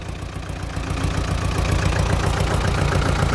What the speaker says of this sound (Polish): To jest silnik dwucylindrowy.